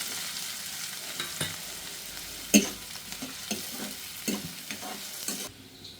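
Curry leaves, onion pieces and green chilli pieces fry in hot oil for a fish curry, giving a steady close sizzle with a few sharp stirring scrapes and clicks from a spoon, and no talking.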